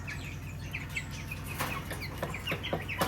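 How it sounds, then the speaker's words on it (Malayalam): Chickens clucking at close range in a home yard in Kerala, a dense, continuous run of overlapping clucks and chirps with a few brief wing flaps, no talking. "നമുക്ക് ഓൾറെഡി കുറച്ച് വലിയ കോഴികളുണ്ട്."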